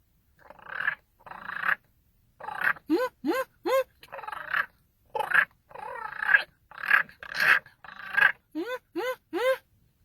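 A man imitates young raccoon calls, giving repeated nasal chirps, whines and rising squeals in short bursts separated by brief pauses, close and fairly loud, during an indoor room-to-room raccoon eviction check.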